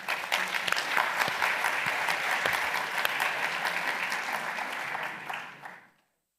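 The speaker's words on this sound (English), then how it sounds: "I ask you to provide us with an applause to our panelists" Audience applause for the panelists at a round table on reimagining the futures of higher education, steady and full-bodied, then fading out near the end.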